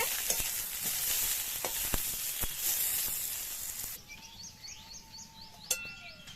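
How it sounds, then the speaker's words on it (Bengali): Brinjal and mixed vegetables sizzle steadily in mustard oil in a wok, a dense frying hiss with occasional sharp pops and spatters that softens partway through, faint bird chirps in the background. "বেগুনটা ভাজা হলে বন্ধুরা শুক্তো সব সবজি ভাজা হয়ে যাবে।"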